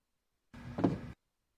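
A Toyota Prius car door, 2010–2015 model, unlatches and opens in a single short mechanical clunk with a brief whir, quiet and isolated against silence.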